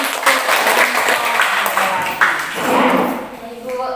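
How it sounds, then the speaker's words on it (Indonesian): Classroom applause breaks out after a student group finishes presenting its discussion, a dense wash of clapping from a group of people, with voices mixed in underneath. "Tepuk tangan untuk"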